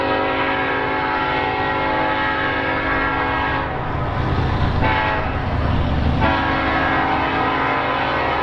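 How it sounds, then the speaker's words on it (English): Southbound double-stack freight train rolls past with its horn blowing in long, loud sustained blasts over the rumble and clatter of the cars, heard close to the tracks. "Yet another southbound stack train followed shortly after with a friendly crew."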